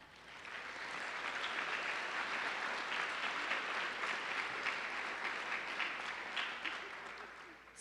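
A commencement audience claps steadily for several seconds, a dense even wash of many hands from a large crowd filling a hall, swelling in and tapering slightly at the end.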